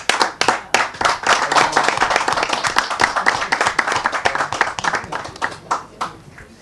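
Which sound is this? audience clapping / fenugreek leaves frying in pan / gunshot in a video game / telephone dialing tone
audience clapping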